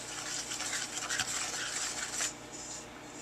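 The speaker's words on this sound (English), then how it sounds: "We're stirring the eggs." A spoon stirs eggs into brownie batter in a bowl, making close, quick, rhythmic scraping and swishing that fades to a quieter rub near the end, with no voices.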